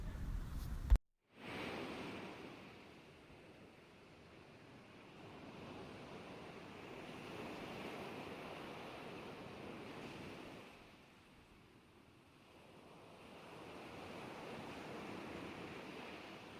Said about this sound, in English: Usually, there are several waves.